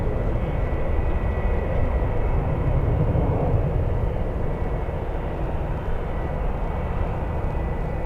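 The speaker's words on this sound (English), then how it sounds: "Let's go for Virgin Atlantic already on the roll, on the move." Virgin Atlantic airliner rolling down the runway at San Francisco International Airport, a steady loud roar of jet engines that holds at full strength for several seconds, with broadband rumble and a faint whine above.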